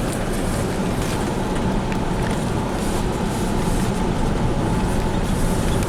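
A tractor pulling a seed drill rolls into a field during autumn fieldwork on an Izium-area farm, a loud, steady, broadband engine rumble with no voices.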